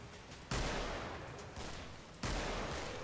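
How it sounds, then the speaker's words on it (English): Bursts of gunfire from the video game Killing Floor, a dense sustained fusillade that swells in two loud waves, close and continuous. "I'm gonna go up here and shoot my shit up here."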